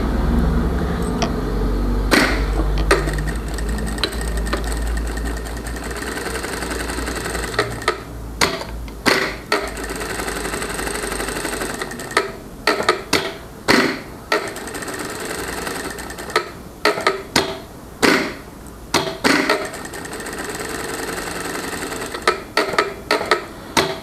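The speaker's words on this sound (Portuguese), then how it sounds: "Vamos passar uma costurinha aqui na parte superior deste bolso" A sewing machine stitches across the top edge of a fabric toiletry bag pocket, rattling close up in quick bursts of rapid needle strokes broken by short pauses, with no talking.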